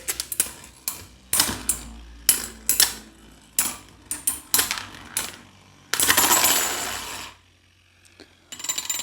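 Metal Fight Beyblade tops, Twisted Tempo and Fang Leone, clash in a stadium with sharp, rapid metallic clacks. A longer grinding rush follows as they spin and scrape before it quiets.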